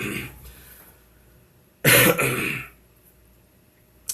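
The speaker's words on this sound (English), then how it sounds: "let me clear my throat" A single loud, close throat clearing, a short harsh burst, between quiet stretches.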